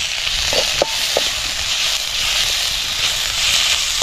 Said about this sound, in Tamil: இப்போ பார்த்திங்கன்னா அந்த தக்காளி போட்டுக்குருவோம் தக்காளி போட்டு கிண்டிடுவோமாடா